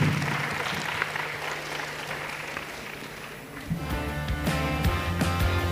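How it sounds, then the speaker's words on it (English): Audience clapping at a live industry event on stage, a steady moderate applause that slowly tapers while a low hum and some voices and movement come in toward the end. "just a round of applause for these guys here"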